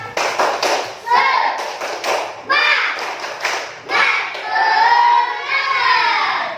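A school class does the 'tepuk semangat' rhythmic clapping chant: crisp patterned claps alternate with young voices chanting in unison, loud and close, in a lively stop-start rhythm over about six seconds.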